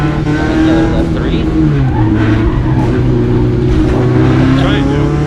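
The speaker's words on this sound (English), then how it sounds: "Motor's pulling strong on the asphalt." Rally car engine pulling hard on an asphalt stage, a loud continuous drone that rises and shifts pitch through gear changes, with occasional tire noise and no talk over it.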